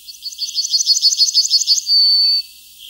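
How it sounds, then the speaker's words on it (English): A yellowhammer sings alone, a fast run of about a dozen bright repeated chirps ending in one long, drawn-out high note, close and clear. "How many children today know the song of a yellowhammer"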